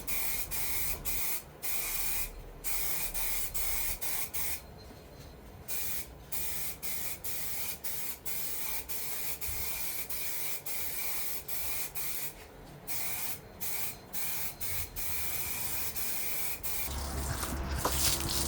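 Aerosol spray can laying a base coat of paint onto a car bumper: close, hissing sprays in repeated bursts separated by brief gaps, some short and some held for a second or more, steady throughout.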